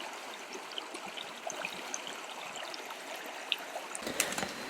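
Water from a creek along a forest walking track in south east Queensland runs in a soft, steady trickle and burble, faint and fairly distant, with a few brighter splashes near the end.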